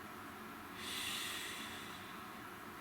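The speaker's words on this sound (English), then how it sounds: "Nice deep breath" A single slow deep breath drawn in through the nose and released, soft and close, rising briefly then fading.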